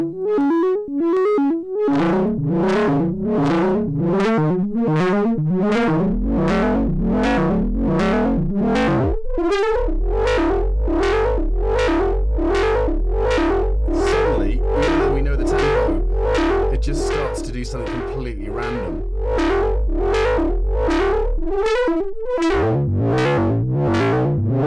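A VCS3-style modular synthesizer tone pulses in a fast, steady rhythm as an oscillator modulates a sine wave, its pitch sweeping and shifting, loud and continuous throughout.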